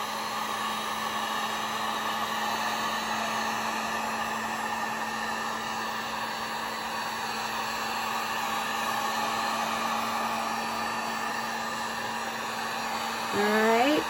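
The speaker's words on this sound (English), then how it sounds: "let's just do the heat gun really fast" A heat gun blows hot air over a resin bowl in a steady, close, whirring hiss with a constant motor whine, followed near the end by a brief sweep as the gun shuts off.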